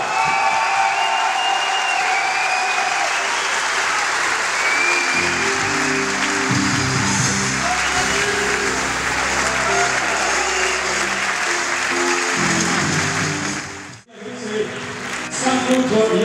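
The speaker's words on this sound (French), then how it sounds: "vont accueillir dans quelques instants par un tonnerre d'applaudissements" A crowd greets a table tennis legend with loud, sustained applause and some cheering at an ITTF Legends Tour event, with a voice speaking over the clapping midway, then a brief drop before the clapping resumes.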